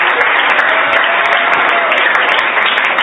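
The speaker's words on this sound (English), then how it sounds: "One more round of applause for everybody on your amazing work this year." Sustained applause from an audience at a 2024 impact project showcase event, dense and steady clapping filling the full stretch at close, loud level with no pauses.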